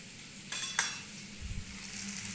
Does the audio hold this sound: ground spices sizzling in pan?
yes